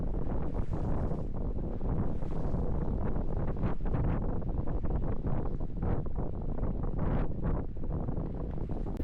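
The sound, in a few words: strong wind on a lake while bass fishing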